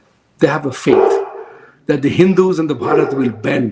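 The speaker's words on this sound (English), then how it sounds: "I apologize for my dog barking" A dog barks in the background while someone speaks steadily in the foreground, the barks partly mixed into and masked by his voice.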